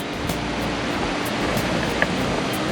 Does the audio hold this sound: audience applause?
no